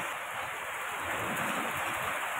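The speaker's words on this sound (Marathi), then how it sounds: "बघा आमच्या इकडे पाऊस" Steady rain hisses evenly throughout, a continuous wash of sound with no voices.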